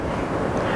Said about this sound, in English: You can probably hear the wind out there.